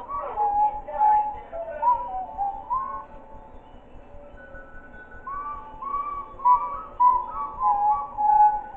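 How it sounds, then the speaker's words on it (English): A short whistled tune in the video game Baldi's School House repeats several times over, clear and prominent with no speech, each phrase looping back to the start. "what is with the repetitive whistling?"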